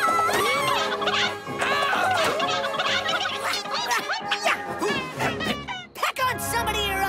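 Cartoon chickens squawk and cluck in a rapid, overlapping flurry of high, warbling calls in the animated children's show Camp Lakebottom, with a voice and other sound effects mixed in.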